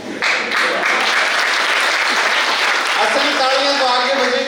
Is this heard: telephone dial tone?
no